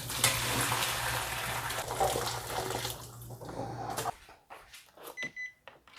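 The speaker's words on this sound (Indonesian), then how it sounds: "Ini wis direbus ya, airnya mau tak buang." Boiled water poured out in a steady, hissing splash for about four seconds, then cut off, leaving a few soft clinks and drips close by.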